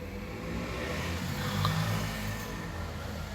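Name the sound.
traffic noise from outside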